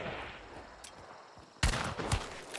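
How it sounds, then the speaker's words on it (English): Gunshots in the game Hunt: Showdown: a faint distant pop early on, then a loud sharp volley of close shots with ringing tails. "I shot him."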